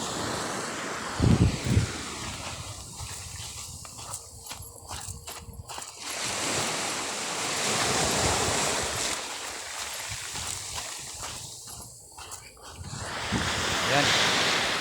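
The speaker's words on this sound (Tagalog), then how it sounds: "Gandang dagat, no?" Sea waves wash onto the shore in a steady, rushing broadband surf that swells and recedes over several surges, with wind noise and a couple of low thumps near the start.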